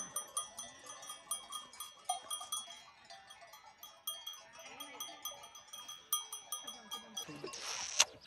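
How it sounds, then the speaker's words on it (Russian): A flock of sheep bleating on open pasture in Spain's Asturias, repeated short calls from several animals at mid distance, with faint bell clinks and a louder rustle at the end. "Так, помимо коров, тут нас еще встречают овцы."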